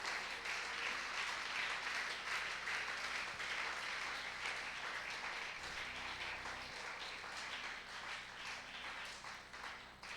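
A church congregation applauding at an Easter service, sustained dense clapping from many people that carries evenly throughout, slightly distant and fairly soft.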